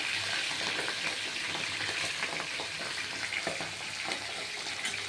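Pabda fish frying in a pan of hot oil, giving a steady, dense sizzle that crackles evenly throughout with no talk over it.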